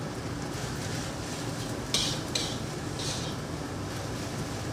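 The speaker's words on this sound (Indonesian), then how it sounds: "Kita aduk kembali." Rice stirred in a pan for Chinese-style fried rice after salt, pepper and seasoning go in, giving a steady scraping clatter with a few sharper utensil clinks against the pan, no talk.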